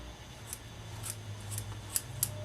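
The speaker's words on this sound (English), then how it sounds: "Just get the fuzz trimmed out to where you can pull your strings through the hole." Scissors snip wool trimmed short on saddle skirts, a handful of crisp, close cuts spaced irregularly over a low steady hum.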